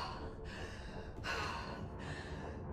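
A character in the Wolfenstein II: The New Colossus video game gasps for breath, three faint, ragged breathy pulls in a row, heard close and quiet with no talk over them.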